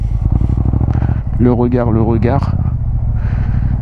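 MT-07 motorcycle ridden like a motocross bike, its engine a steady, close, loud low rumble that swells and dips slightly, with someone speaking briefly over it.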